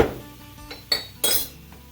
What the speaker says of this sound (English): now let's add our maple balsamic to the pan. You basically want to just keep stirring this